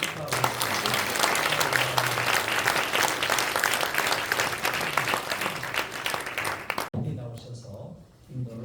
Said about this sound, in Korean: 우리 모두는 큰 박수로 다시 한번 축하하겠습니다.